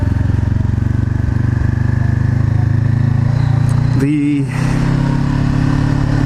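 Honda CBR500R motorcycle with an aftermarket exhaust, idling with a steady, droning low rumble throughout, close and loud, with a brief blip of revving partway through and a word of talk over it.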